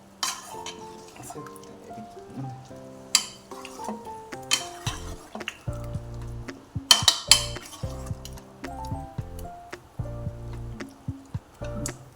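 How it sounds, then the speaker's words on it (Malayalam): Mustard seeds fry in hot oil to temper a pumpkin and broad bean koottu curry, with soft sizzling, scattered pops and repeated metallic clinks of a spoon against the pan, close and without speech. "ഇനി അതിനെ കടുക് വറുത്ത് സെറ്റാക്കാൻ പോകും"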